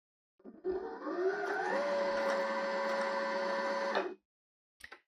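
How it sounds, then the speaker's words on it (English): Janome 360DC sewing machine winding a bobbin under foot-control pressure, a steady whirring motor hum that ramps up in pitch, holds for a few seconds, then stops abruptly, followed by a brief click. "apply some pressure to the foot control to start winding the bobbin"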